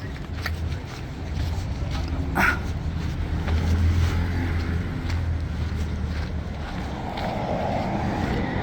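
Cold outdoor wind gusts against the microphone in a continuous low rumble with buffeting, while a steady engine-like drone hums underneath throughout; no clear speech.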